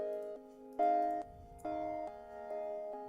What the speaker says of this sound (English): So this is how the melody sounds with the effects on the mixer